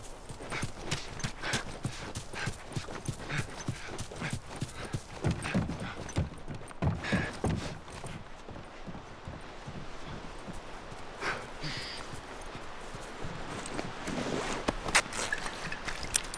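Horse hooves clip-clop steadily in The Last of Us, a run of rhythmic, fairly close hoofbeats on hard ground that continues through the whole passage with no talking.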